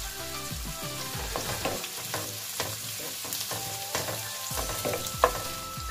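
Chopped medium onions frying in hot oil in a pan for a prawn curry, a steady loud sizzle with repeated scraping stir strokes throughout.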